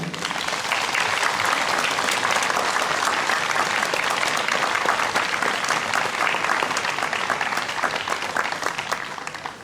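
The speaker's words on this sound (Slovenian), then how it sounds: "En aplavz za Arboretum!" A large concert audience at the Volčji Potok Arboretum gives sustained, even applause for nearly ten seconds, a full wash of many clapping hands that tapers off at the close.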